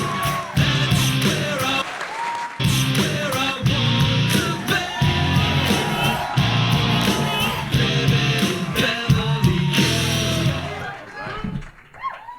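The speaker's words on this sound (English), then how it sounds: "clap it up for Adam Ray" A studio audience claps and cheers loudly and steadily for comedian Adam Ray at a live storytelling competition show, with yells and whoops mixed in, and the sound fades out near the end.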